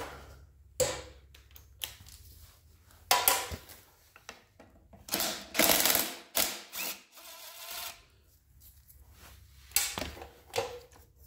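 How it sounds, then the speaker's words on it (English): Socket ratchet clicking in short bursts with pauses while a bolt is backed out on an old Snapper mower, close and fairly loud, no talk. "Take that off too with the socket"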